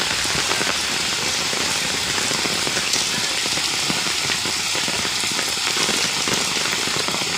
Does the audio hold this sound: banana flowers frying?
no